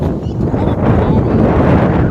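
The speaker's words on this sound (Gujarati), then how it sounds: "લગભગ 25-27 ફૂટની હાઈટે પવન જોરદાર આવી રહ્યો છે" Strong wind buffets the microphone at about 25-27 feet up on the second floor of a building under construction, in a continuous, loud, low roar with no pauses.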